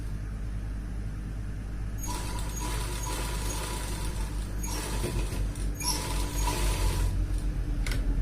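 A sewing machine stitches fabric for a men's undergarment, its motor whirring in several bursts of a few seconds each with short pauses between, close and fairly loud over a low background hum.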